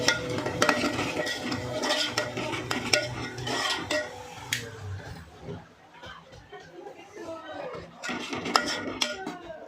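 Masala is sautéed and stirred in a pan, with steady scraping and clanking of a spoon against metal and a faint sizzle underneath, close by, while people talk.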